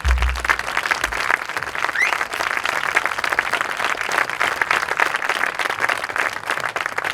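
A concert audience applauds a big band backing two backing vocalists, with dense, steady clapping from a sizable crowd that holds at an even level throughout, no voices on top.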